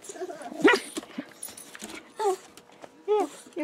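A dog sounds off indoors in a few short, high yips and whimpering barks spaced across a quiet moment, fairly faint and near, with a person's voice nearby.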